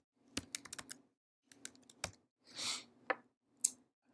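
Someone types commands into a computer console on a keyboard, with close, quiet clusters of clicking keystrokes broken by short pauses and one brief rustle.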